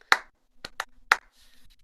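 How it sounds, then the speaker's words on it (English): Four sharp, close hand claps in an uneven rhythm, one isolated and then a quick pair before a final loud smack, with a faint rustle trailing after during Shabbat evening prayers and songs. "You have some clapping,"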